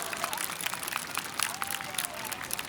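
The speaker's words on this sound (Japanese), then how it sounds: "この江南市民花火大会を支えてくれた全スタッフに大きな拍手をお送りください" A crowd at the Konan city fireworks festival claps for the event staff. The applause is faint and distant, a steady patter of many hands mixed with crowd murmur, with no clear talk over it.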